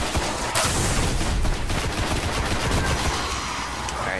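Sustained gunfire in the video game Destiny: dense, loud, continuous fusillade-like bursts that fill the whole short stretch, with no pauses and no talking.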